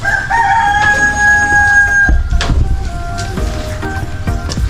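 A rooster crows loudly with long tonal calls, followed by scattered clucking from chickens nearby against a noisy farmyard background where ducks and turkeys are also kept.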